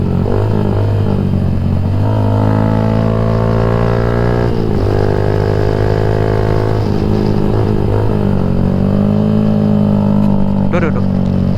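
Loud, close revving of a Yamaha MX King 150 motorcycle fitted with a UB Bpro racing exhaust, a sustained raspy engine note that climbs and dips through the gears.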